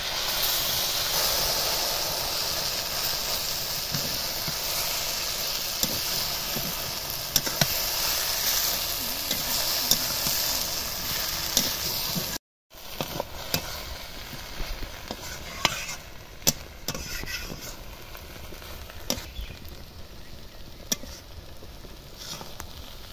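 Boiled red lentils poured into a frying pan with water spinach hiss and bubble as they are stirred, a steady sizzle with scattered scraping and clicking, broken by a brief cut midway; close and no speech.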